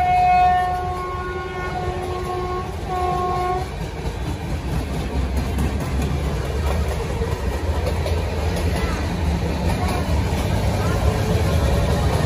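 A Bhadrak–Cuttack MEMU train pulls into a railway station on the Bhadrak to Puri line, sounding a loud horn in two blasts at the start, then a steady rumble of wheels and engine under background voices.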